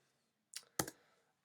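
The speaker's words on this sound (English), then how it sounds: "I'm going to type down there" Two quick taps on a computer keyboard, close and crisp, with a short gap between the keystrokes and no other sound around them.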